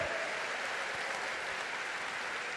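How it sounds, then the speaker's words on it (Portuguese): Congregation applauding the Lord during a Portuguese-language church service: a dense, steady wash of clapping from many hands that holds evenly for the whole stretch, with no voices audible above it. "Vamos oferecer um aplauso ao Senhor"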